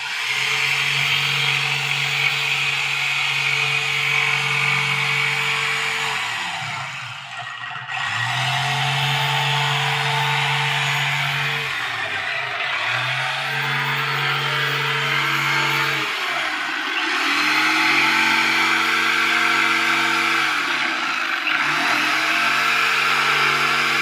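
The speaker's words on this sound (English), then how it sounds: "Skill jigsaw." A Skil jigsaw cuts a curve in a boat's station bulkhead, its loud, close, buzzing motor whine running in several long passes separated by short pauses where it winds down and restarts, with no one speaking.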